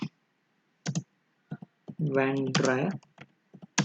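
Quick clusters of clicks from typing on a computer keyboard, some bursts of keystrokes spread over a few seconds, with a voice speaking briefly in the middle.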